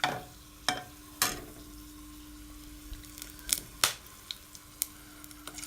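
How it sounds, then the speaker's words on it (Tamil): Cinnamon, cloves and cardamom dropped into about three spoons of hot oil in a pan on a stove, giving a soft crackle broken by a series of sharp clicks and spits, faint and close, with no voices. "லவங்கம், ஏலக்காயெல்லாம் போட்டு தாளிக்கணும்."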